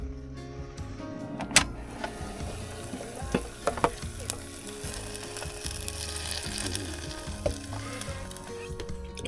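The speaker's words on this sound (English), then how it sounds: "I'm going to cook the sausages and I'll show you what they're like once I've done them" Sausages cook in a small electric cooker inside a van, with a soft sizzle under scattered clicks, knocks and rattles from nearby handling; no one speaks.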